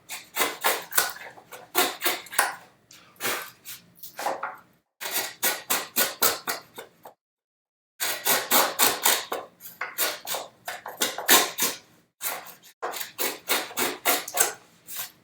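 Crank neck chisel paring dados in softwood during a bookcase build, heard as bursts of short rhythmic scraping strokes in quick runs with brief pauses between, close and moderately loud, with no talk.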